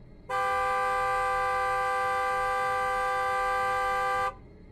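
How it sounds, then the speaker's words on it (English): A car horn blares in one long, unbroken blast lasting about four seconds, loud and close, starting and stopping abruptly against a quiet background. "Then suddenly, the car horn blasts."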